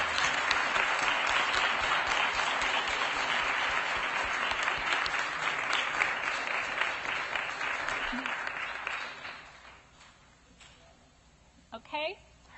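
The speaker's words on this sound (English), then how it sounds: "So let's give her a round of applause" Audience applause at a school district governing board meeting honoring an art contest winner, dense steady clapping for about nine seconds that then fades out, followed by faint voices.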